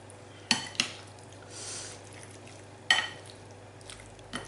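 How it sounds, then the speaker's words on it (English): Pasta bake ingredients are being mixed together in a baking dish, making a few sharp clinks and scrapes of a utensil against the dish with soft stirring sounds between them. The sounds are close and sparse, with no talking. "Mix it all together."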